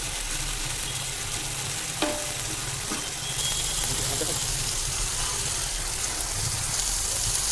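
Spices, ginger paste and tomato paste frying and sizzling in a pan for prawn biryani, a steady crackle with occasional stirring knocks and a person talking over it.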